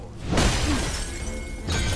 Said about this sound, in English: And the axe shatter.